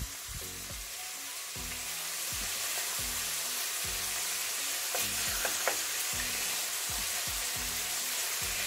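Onion fries with chicken pieces in a pan, a constant fine crackling sizzle running throughout at moderate level, with repeated low knocks and scrapes of a spoon stirring the pieces.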